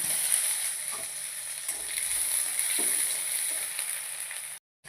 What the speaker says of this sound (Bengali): সর্ষের তেল গরম করে কুচনো পেঁয়াজটা দিয়ে দিলাম।